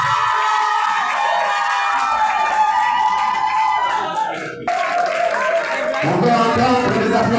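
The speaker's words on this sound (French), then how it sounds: "On peut entendre des applaudissements de la part de l'association Mouvance Dynamique." Applause and cheering from an audience in a hall at a community association event, a dense, loud crowd roar with whoops and shouts sustained throughout, briefly dipping before swelling again.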